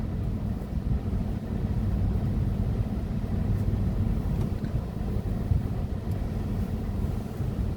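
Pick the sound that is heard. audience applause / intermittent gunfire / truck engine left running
truck engine left running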